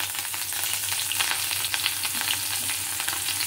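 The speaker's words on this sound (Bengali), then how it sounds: "লঙ্কাগুলো খুব ফাটছে, তাই জন্য আমি সরে এলাম।" Slit green chillies sputter in hot oil in a pan with black cumin seeds tempered in it. A dense, crackling sizzle is scattered with sharp little pops and bursts, loud and close throughout, with no voices.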